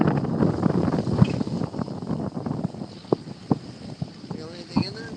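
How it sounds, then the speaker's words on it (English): Gusty wind buffets a lobster hoop-netting fishing boat off Southern California, a rough rushing roar with scattered knocks and thumps on deck while people talk over it. "Listen to how windy it is out there."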